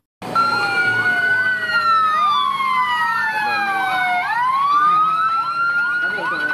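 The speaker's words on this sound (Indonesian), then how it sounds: "ini ambulan." A toy ambulance siren, a loud electronic wail sweeping up and down continuously for several seconds, close and unbroken.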